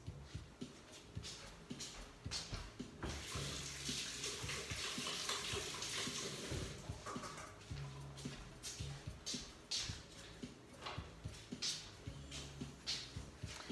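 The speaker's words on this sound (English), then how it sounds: "Okay, just going to wash my hands." Running water pours steadily from a tap as hands are washed in a kitchen sink, a faint continuous splash with occasional brief knocks and movement sounds, with no voices.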